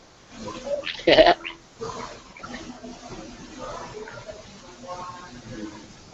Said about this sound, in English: Hello, Mama Goat.